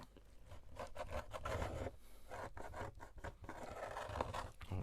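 Synthetic sheer fabric being cut in short rasping, scratchy bursts with brief pauses between strokes, close and fairly quiet, with no voices.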